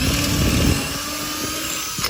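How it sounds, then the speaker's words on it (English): A power drill bores pocket holes through a pocket hole jig, a steady loud whine with a gritty low rumble at the start, running continuously for about two seconds before easing off. "we're gonna use this as our guide to drill in"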